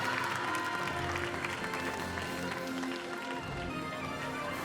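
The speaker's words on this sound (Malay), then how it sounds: "Kita berikan mereka tepukan." Steady, dense applause from a crowd fills the hall for the Bahas 4PM 2022 champions receiving their trophy, continuous clapping at an even level throughout with a faint voice beneath.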